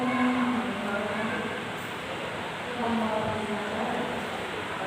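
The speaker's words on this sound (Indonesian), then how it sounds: "kereta api Motisnya sudah mau masuk" The Motis motorcycle-carrier train on the Purwokerto–Pasar Senen run pulling into a station platform, a steady, loud low rumble and rolling roar that swells and eases slightly throughout, with a faint voice underneath.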